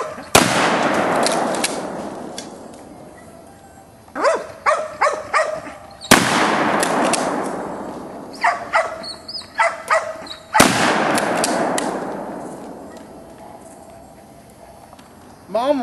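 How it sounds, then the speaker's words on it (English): Three loud, sharp gunshots, each followed by a long echoing tail, spaced several seconds apart, with softer knocks and faint voices between them. "I'm going to post a little quick video of him shooting something"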